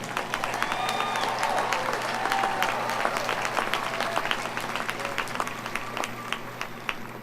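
Audience at a 2014 community college commencement cheering and applauding the graduating class, a steady wash of clapping and crowd noise with scattered whoops throughout.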